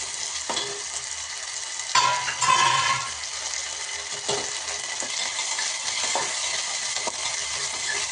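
Potatoes fry in a pan with a steady close sizzle, broken by a few scraping stirs and clinks of a utensil against the pan.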